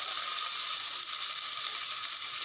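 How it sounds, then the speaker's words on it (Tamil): Onions fry in oil in a cooker pot for nonbu kanji, giving a loud, steady, close hiss of sizzling with no other sounds. "வெங்காயம் தான் பச்சைத்தன்மை போகிற அளவுக்கு வதங்கினா போதும் எண்ணெயில்."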